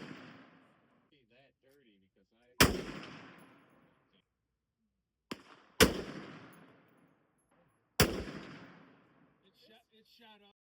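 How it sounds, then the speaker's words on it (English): A 16-inch-barrel bolt action rifle in 350 Legend fires at a range, with four sharp, loud shots spaced a few seconds apart, each trailing off in a long echoing decay, and faint talk in between. "we're shooting practice round 16-inch bolt action 350 first, up at the left upper corner"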